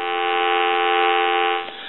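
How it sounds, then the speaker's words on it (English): Dial tone from an AT&T 530 Trimline telephone, a steady buzzy hum held close and loud for about a second and a half before it cuts off abruptly with a faint click. "I want to give you some dial tone."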